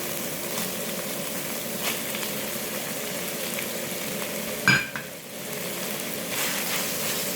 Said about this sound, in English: So give it all a good stir and let the noodles absorb all the lovely sauce and the juices from the beef.